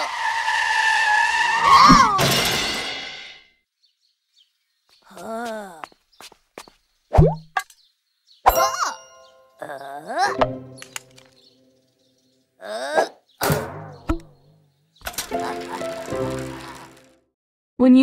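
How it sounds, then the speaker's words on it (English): Cartoon bicycle sound effects for a children's show: a loud whirring ride with a skid, then scattered bell-like dings, squeaks and short whooshes separated by silent gaps. "Rocky raced Scampi on a bicycle"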